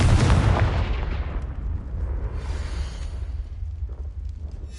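Spell blasts from Incendio and Confringo in the Hogwarts Legacy video game: a loud, close burst of fiery explosion opening the clip, then a long rumbling roar that fades slowly.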